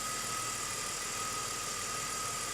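A BMW X5 engine idles with a steady, even drone and a faint high whine, heard up close, its rough idle not obvious.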